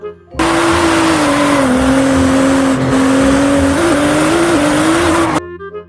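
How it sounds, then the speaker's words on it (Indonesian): A race car engine droning loud and close at a steady high pitch with small wavers before cutting off abruptly. "Lihat teman-teman, ada mobil balap."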